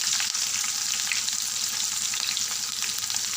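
A torn bay leaf and chopped green chilies sizzle in hot oil in a kadai, making a continuous, even crackling fry heard up close with no voices.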